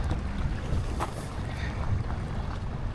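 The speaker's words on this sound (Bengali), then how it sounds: "খুব সুন্দর ঢেউয়ের শব্দ আসতেছে।" Sea waves wash steadily against the shore at the Rozac campsite in Croatia, with gusting wind buffeting the microphone throughout; a continuous close rumble and hiss with no voices.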